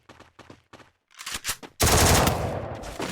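Video game gunfire: three short separate bursts, a ragged cluster of shots, then loud sustained automatic fire to the end, with no talking.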